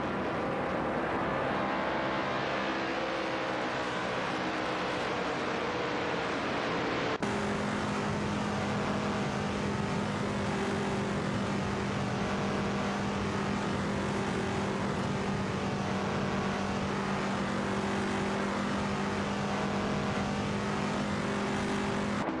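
Race cars roaring continuously in an AI-driven racing video game, a dense, loud engine drone that shifts to a steadier, higher pitched whine partway through, with no voices.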